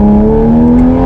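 A straight-piped Toyota A90 Supra exhaust holds a loud, steady, close rev with a strong droning tone that rises slightly in pitch, no voices.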